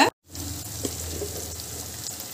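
Chicken masala and pepper are mixed through food in a frying pan, giving a steady soft sizzle with an occasional light stir, close by and without talk after a brief cut at the start.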